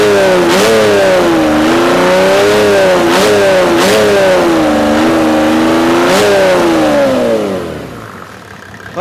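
A Mercedes OM606 diesel engine with a freshly calibrated injection pump revs up and down in several close, loud surges, settling back to a steady idle before trailing off near the end.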